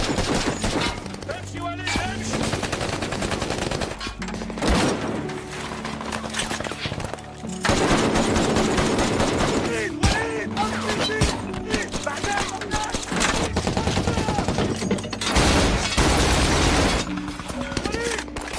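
A gunfight in a war film, with machine-gun fire as ISIS fighters ambush travellers at a roadblock. Dense, loud bursts of shots and clatter sit amid music and effects, and a voice talks over parts of it.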